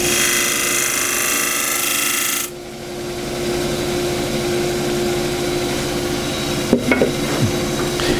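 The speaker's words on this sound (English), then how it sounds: "Hands planted on the rest, squeeze the tool in." Woodturning tool cutting a cross-grain wooden box on a lathe, a steady broadband scraping hiss with an underlying motor hum; the cut stops abruptly after about two and a half seconds, leaving the lathe droning with a few small knocks near the end.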